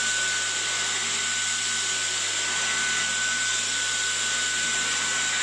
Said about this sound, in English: Yeah, you wanted a little tiny Dyson.